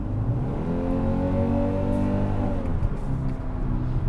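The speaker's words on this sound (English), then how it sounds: "it was revving up a little bit higher, and the reason why is because I've got this thing locked into sport mode" A 2023 Kia Sportage's 2.5-liter engine, locked in sport mode, holds a loud, sustained rev that climbs and then settles back, heard close from inside the vehicle without speech.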